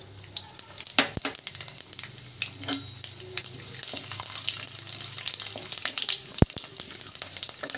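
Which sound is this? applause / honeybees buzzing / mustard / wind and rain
mustard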